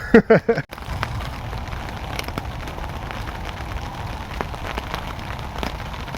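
Storm rain drums steadily on a tent while wild camping, a dense close patter with scattered louder drops, following a brief burst of handling noise at the start.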